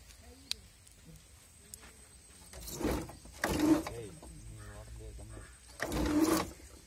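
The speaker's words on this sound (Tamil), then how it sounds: "இங்க ஃபார்வர்ட் போட்டீங்கன்னா மோட்டர் ஓடும் ரிவர்ஸ் போட்டீங்கன்னா மாறி ஓடும்" An electric crane winch motor used for cleaning a well runs in reverse while lifting its load, giving short whirring bursts between quieter stretches, with a voice talking over the machinery.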